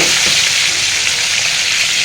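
Rupchanda (pomfret) fish frying in hot oil in a wok, a loud, dense, continuous sizzle heard up close.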